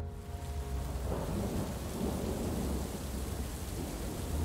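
Rain and thunder come through together, a deep rolling thunder rumble swelling under a steady wash of rainfall, continuous and fairly distant with no voices.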